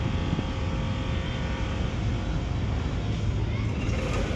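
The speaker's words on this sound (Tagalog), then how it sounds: "Pakinggan nyo yung makina. Umaandar na." A Geely Okavango Urban Plus SUV engine runs at a steady, even idle, with a close, constant low rumble and hum throughout and no distinct revs.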